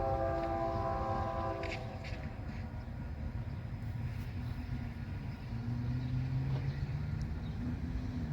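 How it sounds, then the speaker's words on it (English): A westbound freight train, led by a repainted locomotive with an SD70M trailing, rumbles past steadily with low engine drone and rolling rail noise, brief horn-like tones near the start and a rising tone later. "Oh, a train."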